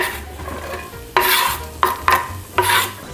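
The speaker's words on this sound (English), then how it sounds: "you need a little olive oil in your skillet. There we go. Onions in first." Onions dropped into a hot skillet of olive oil, with several bursts of sizzling and spatula stirs heard up close.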